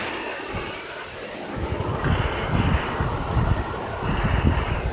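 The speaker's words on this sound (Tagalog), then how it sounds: "Lumakas na yun ang may ulan." Heavy rain pours down and grows stronger, a dense, steady hiss that swells into a louder roar partway through, with no clear voices.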